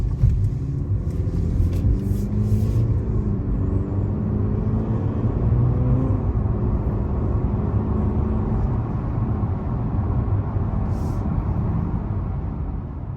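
Steady low road and engine rumble inside a 2023 Mercedes-Benz C300 4Matic as it drives, a continuous smooth drone with faint tire noise and no talking.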